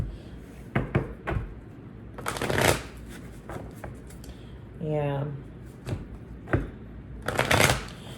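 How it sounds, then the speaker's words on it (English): A deck of tarot cards is shuffled in several quick riffling bursts, crisp and close, with a brief spoken word and small handling noises between them. "Let me shuffle these again."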